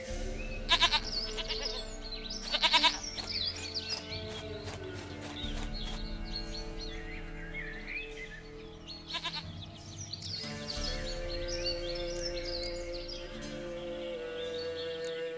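Goat bleating in The Witcher III, several short bleats near the start and more scattered later, heard over a steady game music bed with birdsong-like chirps and no talk.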